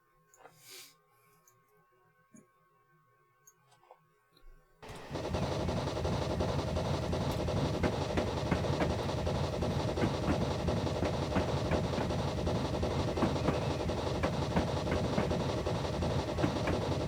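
A 0-4-0ST saddletank steam locomotive in Train Simulator, set on the Crabenmore route, starts after a few quiet seconds of faint clicks and then runs as a steady, loud rolling and chuffing rumble that continues to the end.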